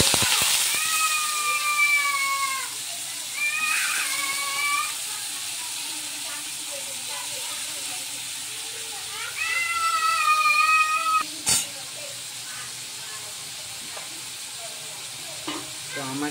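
Potatoes and long beans frying in hot oil, a continuous close sizzle throughout, with a cat meowing several times over the top and a few sharp clatters.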